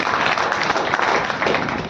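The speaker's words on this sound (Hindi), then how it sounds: "इनके लिए ताली बजाइए" Audience at a community society gathering gives dense, steady applause for the outgoing team, close and sustained throughout.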